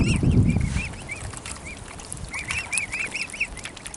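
A duck under attack on the Norfolk Broads gives a rapid series of honking, quacking calls, loud and near, with a heavier low commotion at the start.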